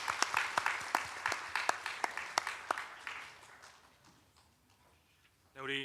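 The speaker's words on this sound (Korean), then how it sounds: "박수 한번 보내겠습니다." A church congregation claps during a Sunday service, with distinct rhythmic claps that gradually thin out and fade. A voice begins speaking right at the end.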